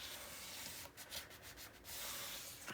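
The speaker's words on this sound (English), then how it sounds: "Now I'm going to hold this still, and I'm going to come in here, and I'm going to burnish." A tool burnishing tape onto a paper album cover, a short run of quiet, rhythmic rubbing strokes against steady background hiss.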